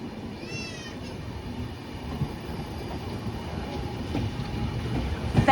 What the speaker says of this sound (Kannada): ಸೊ ನಮ್ಮ ಗಾಡಿನ ಸಿಗ್ನಲ್ ಕೊಟ್ಟರು, ನಾವು ಹೊರಡ್ತಾ ಇದ್ದೀವಿ.